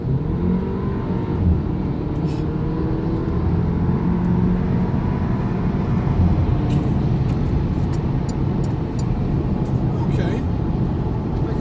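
A 2019 Porsche Macan cruising on the motorway, its engine a steady low drone under constant road and tyre roar from inside the cabin, with no clear revving and no speech.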